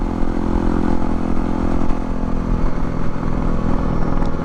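A Honda CRF250L dual sport motorcycle rides along a backroad, its engine rumbling steadily over wind and road roar, loud and close throughout, with no talk.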